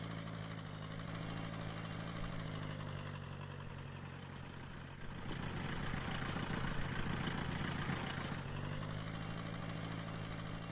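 A car engine idles in the video game The Long Drive, a low, steady hum with a constant droning pitch that grows rougher and louder for a few seconds midway before settling back.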